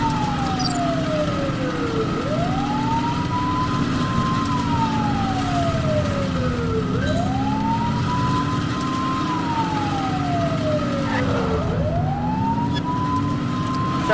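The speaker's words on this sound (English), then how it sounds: "Remember to turn your siren on." A police siren in the video game The Precinct wails, sweeping slowly up and down in long repeating cycles, loud and steady over a constant engine drone.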